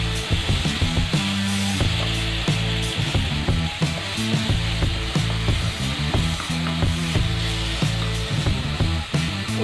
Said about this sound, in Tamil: வாழைப்பழம் நெய்யில் போட்டு வறுக்கும்போது தேங்காயும் போட்டுருவோம்